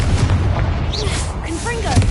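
A Confringo fire spell goes off in the Hogwarts Legacy video game, a dense, rumbling booming burst with rolling low blasts, overlaid by brief voice sounds and game effects.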